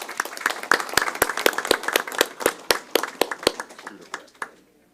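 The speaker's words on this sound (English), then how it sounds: "Can you give him a round of applause?" Scattered applause from a school district board meeting audience, a handful of distinct claps ringing out in an uneven rhythm before tapering off at the end.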